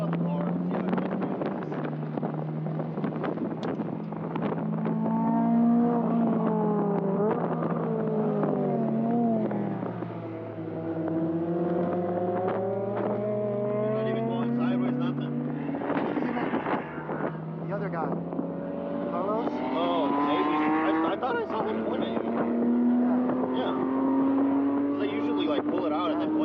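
Race car engine at Silverstone held on light throttle, a steady droning note that rises and falls in pitch, close and loud throughout, with wind buffeting and voices talking over it.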